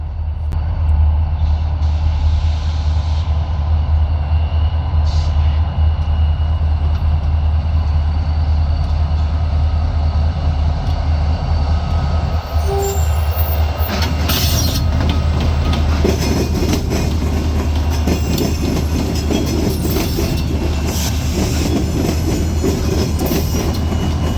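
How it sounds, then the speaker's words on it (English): An Ohio Central freight train rolls past on the CSX Columbus Subdivision, its loud steady rumble of wheels on rails growing busier and brighter with clattering and squeals as the cars go by, with no talk. "This is Ohio Central Train NKPA"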